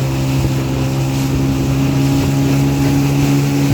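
Speedboat crossing the rough Bay of Bengal toward Teknaf, its motor droning loud and steady with a constant hum, wind buffeting the microphone and no voices.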